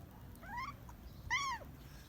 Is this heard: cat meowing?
yes